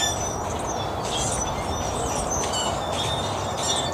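Wild birds call and chirp outdoors at a feeder on a winter morning, with repeated high twittering over a steady, loud broadband rumble of background noise.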